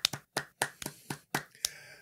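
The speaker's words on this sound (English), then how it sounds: "This is your best golf clap." A golf clap of about eight light, crisp hand claps, sharp and close, in a loose, slightly uneven rhythm with no voices.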